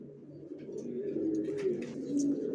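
Racer pigeons in a loft coo softly and continuously close by, a low, rolling burble with a few faint chirps over it.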